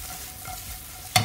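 Sweet potatoes frying with butter in a pan, a soft continuous sizzle with light stirring scrapes, ending in a sudden louder clatter or sizzle burst, close and without talking.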